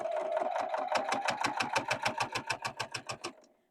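A sewing machine stitches at a steady rapid chugging pace, then slows into distinct, evenly spaced needle strokes before stopping. It is close and fairly loud, with no talk.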